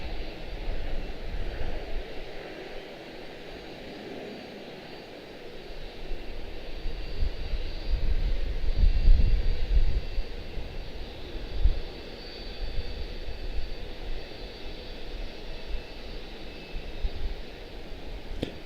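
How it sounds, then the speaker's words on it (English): A CRJ7 regional jet zips past at Charlotte-Douglas airport, its engine roar swelling through the middle and then easing off against steady broadband airport noise, with no talking. "CRJ7, Columbia, zinging past us."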